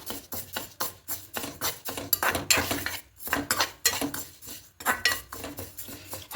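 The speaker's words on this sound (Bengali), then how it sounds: "এবার হালকা খোলায় ডালটাকে একটু ভেজে নেবো" Moong dal dry roasting in a small pan, stirred with a metal spoon in quick scraping, clinking strokes that come in bursts with short pauses.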